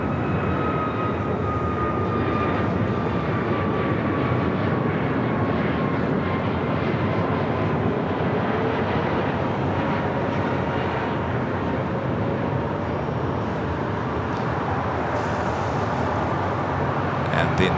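A Southwest Airlines Boeing 737 MAX 8 departs LAX with a steady, loud jet engine roar that holds for the whole stretch, a slowly falling whine riding on top, with faint talk in the background.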